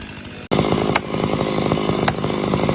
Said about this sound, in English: The razor-sharp chainsaw slices through the wood like a knife through butter.